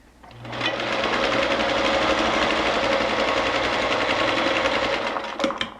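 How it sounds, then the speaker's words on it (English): A sewing machine runs steadily for about five seconds, stitching fabric pieces of a small patchwork coaster together with a reinforced start and end, fairly loud and close with no talking. "I'll sew that, and then we'll go to the next step"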